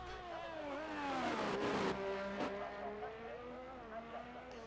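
A Haas Formula 1 car in a racing video game runs flat out down a DRS straight near 210 mph, its engine a steady high-pitched whine that climbs through gear changes, with a commentator talking over it.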